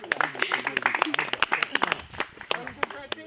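Scattered clapping from a small gathering at an awards presentation in Champignolles, irregular sharp claps mixed with talking voices.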